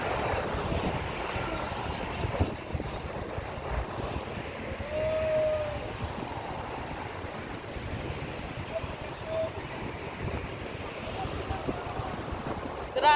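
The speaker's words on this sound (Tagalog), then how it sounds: "Grabe, ang hangin." Strong night wind outdoors, a steady rumbling roar buffeting the microphone with gusty swells, heard alone without speech.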